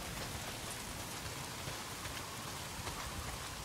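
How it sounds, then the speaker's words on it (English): Heavy rain pours down continuously in the Days Gone video game, a dense, steady wash of drops with no talking. "Well, not if it's pissing down rain."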